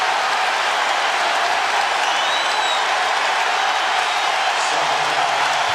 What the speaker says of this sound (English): Crowd getting fired up.